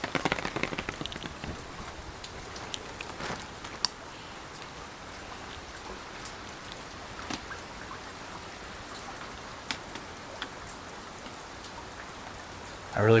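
Steady light rain falls near a Japanese temple, a soft continuous patter with a few sharper drips, heard from under an overhang with no talking.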